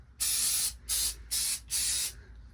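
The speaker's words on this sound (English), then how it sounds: "gonna spray this on it." Four long hissing sprays of aerosol rust treatment onto rusty interior metal, close up and loud, separated by short pauses, with quiet background otherwise.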